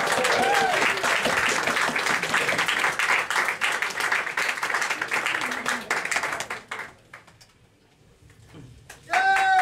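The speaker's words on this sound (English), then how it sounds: "Round of applause, everybody!" A comedy club audience claps loudly for a stand-up comedian, with a few whoops and cheers over the clapping, before it fades out near the end and a voice starts up.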